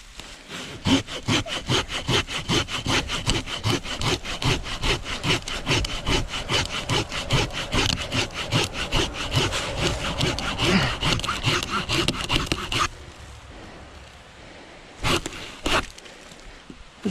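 A hand saw cuts through a fallen log on a trail in fast, steady back-and-forth strokes, loud and close, then stops, followed by quieter rustling and two brief scrapes.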